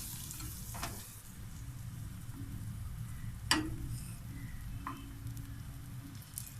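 Scrambled egg cooking in coconut oil in a pan, with a quiet, steady sizzle and occasional clicks and scrapes of stirring, including one sharper tap near the middle.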